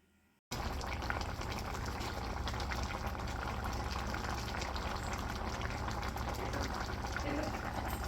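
Bitter gourd palya cooks in water in a pan. After a short quiet start, a steady, close, dense bubbling and simmering noise runs unbroken to the end.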